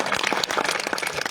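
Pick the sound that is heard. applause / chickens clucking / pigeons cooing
applause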